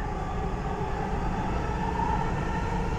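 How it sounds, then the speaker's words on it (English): Dubai Metro red line train running at Centrepoint station, a steady broadband rumble and hum with a faint high whine, continuous and fairly close, no voices. "Centrepoint is a rapid transit station on the red line of the Dubai Metro in Dubai, UAE."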